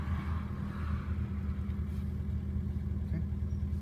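A car's engine rises in a steady low rumble as the clutch is slowly brought up during a driving lesson, continuous and fairly loud throughout.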